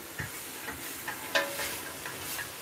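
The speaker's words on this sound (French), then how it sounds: "Ça mijote" A pan of food simmers quietly, giving soft intermittent bubbling pops and light sizzling ticks spread over a low, steady hiss.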